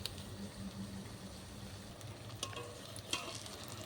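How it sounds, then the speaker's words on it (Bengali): Pumpkin fritters fry in a little oil, a soft steady sizzle with occasional stirring scrapes and clicks, close and quiet with no talk. "আমি কিন্তু অল্প তেল দিয়ে খুব সুন্দরভাবে একেবারে মুচমুচে করে ভেজে নিচ্ছি"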